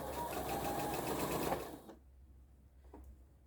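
A sewing machine runs steadily while stitching a quarter-inch seam on a Mariner's Compass quilt block, a close, continuous motor whir with rapid needle rhythm that stops abruptly partway through, leaving faint handling noises.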